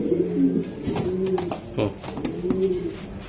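A racing pigeon coos in low, throaty rolling phrases, repeating close by in a steady rhythm against a constant background hum.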